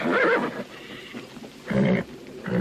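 A stallion whinnies loudly and close at the start, then gives two shorter neighs about a second apart near the end, with quiet gaps between.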